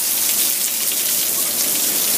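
Heavy rain pours onto a parked car, a dense, continuous hiss of drops drumming on the body and glass, steady and close with no talking.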